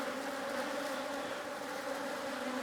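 Steady, continuous buzzing of many bees around an open beehive, with no lid on, in a backyard apiary. The droning hum stays even and moderately close for the whole stretch, with no voices.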